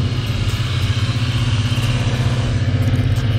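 A stunt motorcycle fitted with a different exhaust that gives it too much back pressure runs rough, holding a steady, throbbing low engine note up close with no talking.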